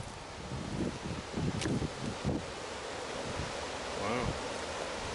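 Constant broad wind rush buffets the microphone outdoors by a river, with a steady watery roar beneath and a few brief low thumps.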